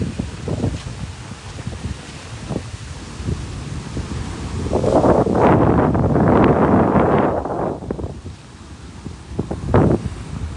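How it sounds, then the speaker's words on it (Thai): Strong gusty wind at Bang Saen beach buffets the microphone in a steady roar, building to a loud sustained blast in the middle before easing, with no talking. "โอ้ลมแรง"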